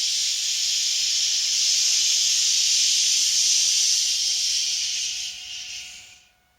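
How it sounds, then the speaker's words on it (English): A person makes a long, loud hissing S sound while breathing out during a breathing exercise, a steady airy hiss lasting several seconds before fading out. "you make the S sound as you breathe out"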